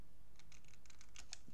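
Small, crisp snips of scissors cutting paper squares at right angles, a quick run of about eight faint clicks close by in a quiet room, with no voices.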